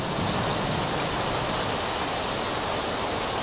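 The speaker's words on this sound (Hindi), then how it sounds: "ये आपा बारिश आ गई, बारिश आ गई।" Steady rain pours down outdoors, a dense, even hiss that fills the whole stretch with no voices over it.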